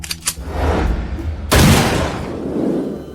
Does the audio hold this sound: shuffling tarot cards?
no